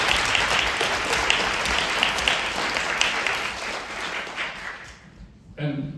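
An audience gives a sustained burst of applause, dense and loud clapping that fades toward the end before a voice begins speaking.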